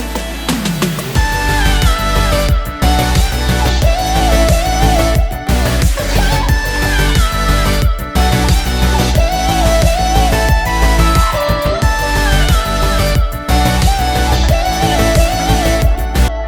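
A pitched-up vocal chop sits in a full, dense music mix, repeating in short melodic phrases over steady bass and drums for the whole stretch, loud and up front.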